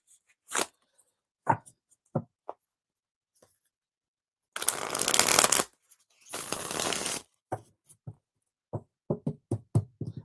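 A tarot card deck is shuffled and handled close by, with sharp single card snaps and taps and two longer riffling bursts in the middle.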